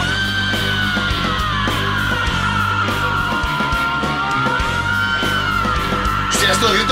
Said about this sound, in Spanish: esto grito parece como de metalero